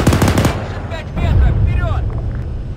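Rapid machine gun bursts in Arma 3 Antistasi Global Mobilisation, a loud close burst at the start followed by rumbling fire and distant reports, with voices talking over the shooting.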